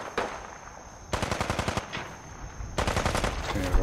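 Bursts of automatic gunfire in the video game Fallout 4 Far Harbor, two sustained rapid volleys separated by shorter shots, loud and close.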